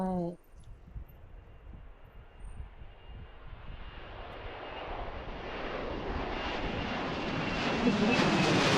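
A JetBlue jet airliner departs the airport at Washington Reagan National, its engine roar building steadily from a low rumble to a loud, broad whoosh as it climbs away. A brief voice is heard at the start.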